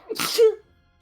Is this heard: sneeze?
yes